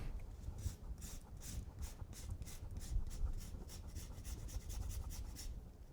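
Close, steady rasping of a lemon rubbed against a zester for scones, a rhythmic scraping that repeats for several seconds with no talk.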